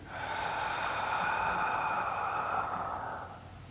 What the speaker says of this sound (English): We're going to take a deep breath in